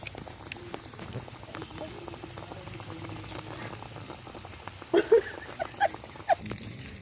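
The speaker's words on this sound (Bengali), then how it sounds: "এখন আমরা তেলে ছেড়ে দিব।" Coated chicken pieces bubble and hiss steadily in hot oil, a dense crackling fry with a few louder pops and spits near the end, close and without voices.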